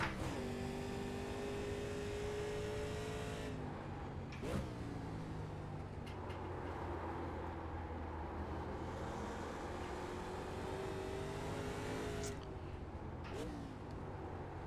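A race car engine drones steadily in a racing video game, with a sustained tonal hum whose pitch shifts as the car changes speed and a few sharp clicks, heard alone at a moderate level.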